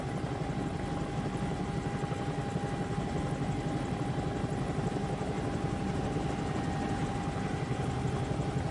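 A Bell 222 helicopter hovers in a flight simulator game, giving a constant rotor drone with a steady whine that stays even and loud throughout, with no voices.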